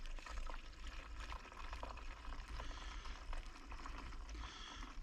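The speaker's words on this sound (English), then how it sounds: "So let's pour some water now in this pump." Water pours from a jug into a pump during a no-cooling repair call in January, a steady splashing, trickling flow that runs close and continuous for several seconds with no talking.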